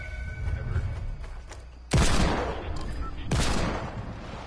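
First-person shooter video game gunfire, two heavy booming shots with ringing tails over a low rumble of game ambience, loud and close, with a few faint clicks before them.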